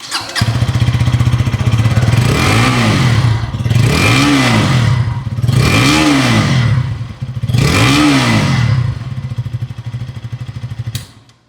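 A KTM RC 160 motorcycle with an underbelly exhaust idles loudly and close, then revs four times in an even rhythm, each blip rising and falling before it returns to idle and shuts off.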